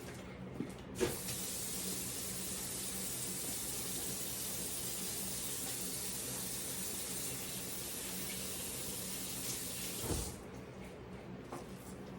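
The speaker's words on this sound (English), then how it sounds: "let me rinse this off my hands real quick" A kitchen tap runs in a steady, hissing stream as butter-greasy hands are rinsed under it, continuous and close for about nine seconds, with faint clunks at the start and end.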